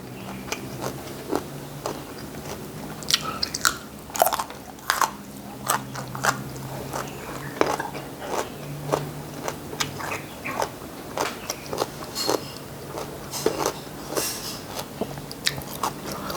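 Fresh mango being bitten and chewed up close, a long run of wet crunches and chewing clicks in an irregular rhythm, with no talk.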